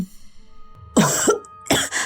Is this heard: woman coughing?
yes